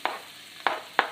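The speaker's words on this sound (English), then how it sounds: "you can tell the oil's quite hot now, and as soon as you start seeing them pop, which they are starting to do now, you can see it sizzling" Ginger frying in hot oil for an Indian dal, a close, steady sizzle marked by three sharp pops or stirring clicks.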